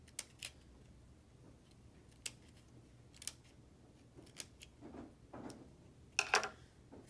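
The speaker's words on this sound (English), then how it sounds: "And we'll cut halfway around again to make our little spikes." Scissors snipping through paper to make little spikes, a handful of faint, sharp separate snips spaced apart in a quiet room, with a slightly louder cluster of cuts near the end.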